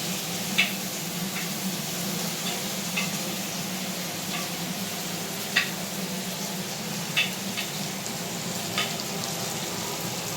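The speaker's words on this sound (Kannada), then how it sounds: "ಇವಾಗ ಇದನ್ನು ಕ್ಲೀನಾಗಿ ಫ್ರೈ ಆಗೋಕ್ಕೆ ಬಿಡೋಣ" Fish fillets frying in a pan of hot oil give a steady, close sizzle with occasional small pops and ticks scattered throughout.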